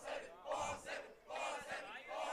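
Crowd at a regular-season high school softball game yelling loudly in sustained waves, swelling and dipping over a couple of seconds with no clear talk on top.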